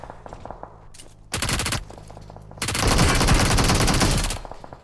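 Rapid automatic gunfire from PUBG Mobile in a Tokyo-themed battle zone, two loud bursts of machine-gun fire with a sustained barrage over the last two seconds, lighter shots scattered between.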